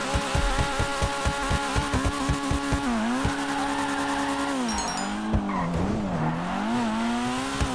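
A Honda Civic Type R in GTA 5 snarls loudly with a steady revving engine note, rising and falling pitch as it accelerates and shifts, with repeated tire squeals and skids throughout.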